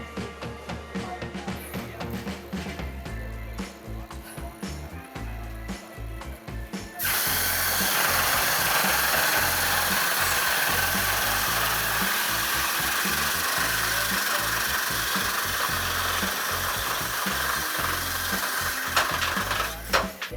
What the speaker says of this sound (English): there's no better test to do that, to show the example here, than a saw race